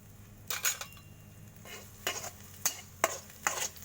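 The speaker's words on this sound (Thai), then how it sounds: "ผัดกระเทียมให้หอมก่อนนะคะ" Garlic stir-frying in a little oil for fried rice, with a spatula scraping the pan in about five short, distinct bursts over a faint, steady sizzle; close and moderately loud, with no talking.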